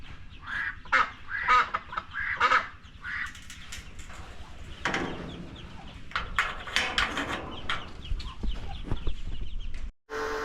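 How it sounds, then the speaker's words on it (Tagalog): Several ordinary farm ducks quack and honk in a noisy cluster in Tarlac City, Philippines, overlapping calls from a flock close by, with rustling and movement in the background. "Ganyan lang yung mga regular na pato pala"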